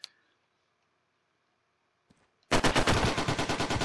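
Rapid automatic gunfire from a World War II online shooter game bursts in loudly after a near-silent stretch, a dense rattling string of shots that continues without a break to the end.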